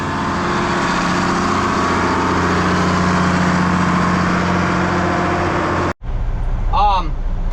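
A tractor-drawn slurry tanker loads from a typical farm slurry store, giving a steady, loud engine and pump drone that runs throughout, then cuts to a quieter scene with a brief tonal sound near the end.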